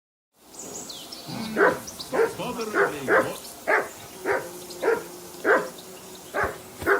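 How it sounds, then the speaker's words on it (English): A dog barks repeatedly in Kingdom Come: Deliverance 2, with about nine evenly spaced, fairly close barks over a low outdoor ambience. "Call off that mutt of yours!"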